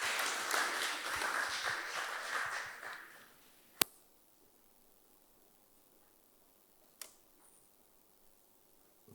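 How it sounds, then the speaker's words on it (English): Conference audience applause at an agricultural industrialization event rings out for a few seconds, then fades to near silence broken by a couple of isolated sharp clicks. "Please let's give him a round of applause."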